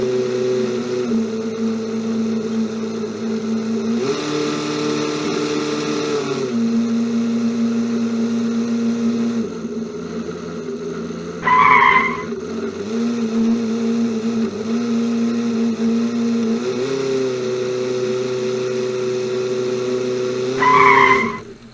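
Yamaha engine fitted to the VelociSteve aircraft in place of a Lycoming drones steadily throughout, its pitch shifting up and down as power changes, with two brief higher-pitched bursts partway through, no talking.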